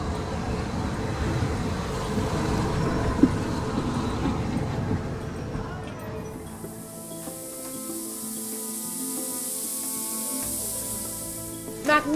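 A Severn Valley Railway steam train rumbles close by with a dense roar that thins out. Hissing steam and a metallic ringing tone take over as it passes, with no voices.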